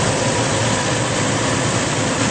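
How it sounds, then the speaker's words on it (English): A 2010 Toyota 4Runner SR5 four-wheel-drive SUV idles smoothly with the hood open, a steady low engine drone with an even, unwavering rumble throughout and no talk over it. "Engine bay is very clean, runs very smooth."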